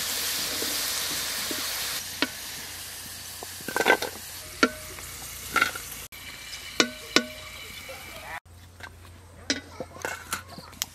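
Potatoes fry in hot oil with a low continuous sizzle, punctuated by sharp utensil clinks and scraping as they are turned and lifted out.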